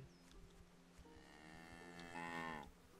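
A cow in the medieval video game Kingdom Come: Deliverance gives a long, rising moo up close against a quiet outdoor backdrop, swelling louder toward the end before cutting off.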